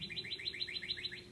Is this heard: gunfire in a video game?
no